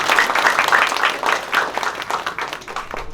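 Audience members clap at an anniversary celebration of a Hindu religious school in Bali, the applause fairly close, arriving in uneven pulsing bursts that gradually thin out.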